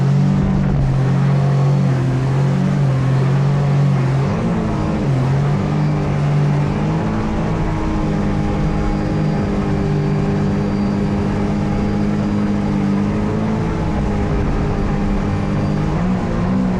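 A 300hp mini jet-boat with a new prop runs on plane, its engine droning loud and steady throughout with a rising pitch early on, then holding a strong continuous roar close by with no talk.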